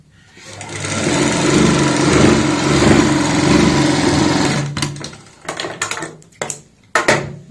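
An electric sewing machine stitches a Punjabi suit, running in one continuous loud whirring burst for several seconds, then a few short stop-start stitching runs with clicks between them.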